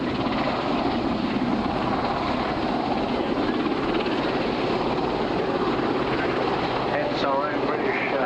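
Westland WS-61 Sea King helicopter, a British licence-built Sikorsky S-61, at an air show, giving a steady continuous rotor and engine roar throughout, loud and broadband, with a voice talking over it.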